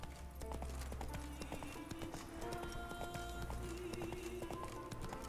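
Horse hooves clip-clop at a quick gallop in The Witcher 3, a brisk continuous rhythm of close hoofbeats over ambient game sound.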